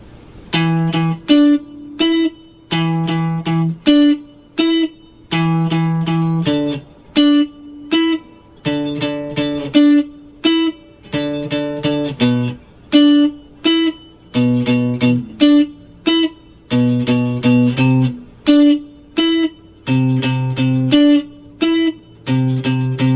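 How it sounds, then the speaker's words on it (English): Guitar plays the staccato main riff of a song, short muted chord stabs and plucked notes in a tight, choppy, repeating rhythm, close and clear with no talking. "Next is the main riff of the song, and it'll sound like this."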